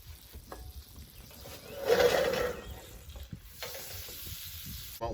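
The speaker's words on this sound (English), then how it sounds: "we're gonna add some butter in there to help pull all those flavors" Butter melting and sizzling in a hot skillet used for creamy sausage pasta, a close crackling sizzle that swells loudly for a moment as it hits the pan, then settles to a softer fry with stirring noises.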